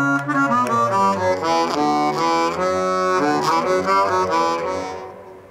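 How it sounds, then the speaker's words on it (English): A Hohner chromatic harmonica in D, run through an Electro-Harmonix Nano POG octave pedal, plays a flowing melodic phrase with a deep doubled lower octave beneath each note, rich and sustained before fading out at the end. "So it gives a really deep, nice sound."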